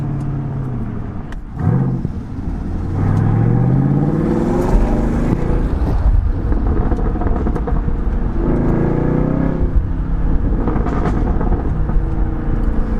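A Chevrolet Camaro SS with a Borla S-Type exhaust gives a deep, throaty rumble with revving swells, pops and rising pitch sweeps as it accelerates with the windows down, loud and close throughout.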